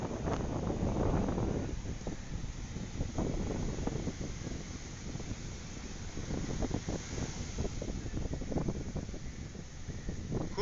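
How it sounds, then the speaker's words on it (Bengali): Wind sweeps across Old Digha beach, buffeting the microphone with steady rushing gusts and rumbling bursts over the whole stretch, alone with no voices. "খুব সুন্দর হাওয়া, খুব সুন্দর হাওয়া।"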